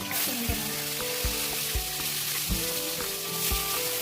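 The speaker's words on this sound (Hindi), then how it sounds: "माछ पका लाई सुंदर देखिए धुआं टा उठे तो सुंदर" Fish sizzling steadily as it fries in oil in a pan, a dense hiss with regular soft knocks as the pieces are turned, close and loud throughout.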